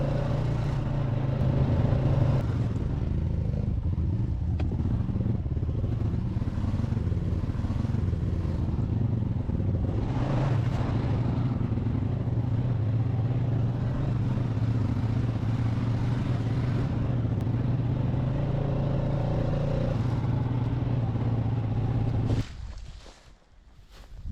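An ATV rides a rough off-grid cabin trail with a steady, loud engine drone and rattling clatter running throughout, fading out abruptly near the end.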